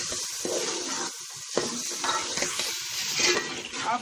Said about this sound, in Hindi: अब इन मटरों को भूनेंगे जब तक ये थोड़े से कच्चे रह जाएंगे और थोड़े से गल जाएंगे